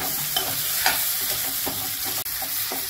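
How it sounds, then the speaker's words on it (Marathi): Mashed potato is stirred into a hot pan of sizzling oil and spices for Maharashtrian batata vada, with continuous frying sizzle and scraping stirs close by. "स्मॅश केलेला बटाटा घालतीये।"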